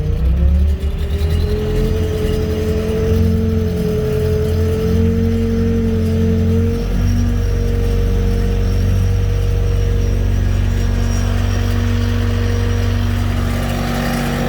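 A firewood processor engine with a 32-inch saw bar and a running conveyor drones loud and steady close by as the throttle is turned up, with no talking over it.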